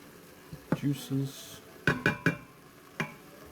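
A spoon scrapes and clanks in a pot while onion and meat are stirred for chili, with several distinct metallic knocks and scrapes at irregular intervals.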